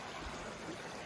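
Clear water of a trailside stream runs beside a wooden shelter on the Appalachian Trail, a steady, soft rushing wash with no voices over it.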